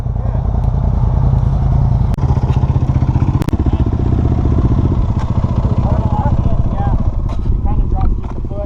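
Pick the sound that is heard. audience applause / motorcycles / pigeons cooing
motorcycles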